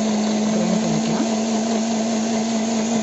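A kitchen mixer grinder blends kiwi, pineapple, ginger, sugar and water into juice with a steady, loud, unbroken whirring hum and no voices.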